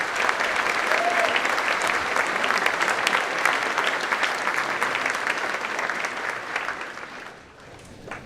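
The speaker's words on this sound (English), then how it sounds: "Give him a round of applause." A general assembly audience applauds the mayor of Emporia as he comes forward, a loud, sustained wash of many hands clapping that holds steady, then thins and tapers off near the end.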